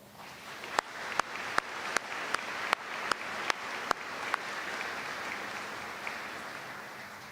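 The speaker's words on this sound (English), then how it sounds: "let's show our thanks with a round of applause" Audience applause at a university convocation ceremony in a large hall, with a few sharp louder claps standing out in the first half before the clapping settles into a steady, even wash.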